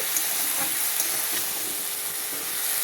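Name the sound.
stirring salt, turmeric, ginger and cumin powder into frying food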